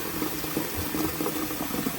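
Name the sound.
water poured into pot over dried beans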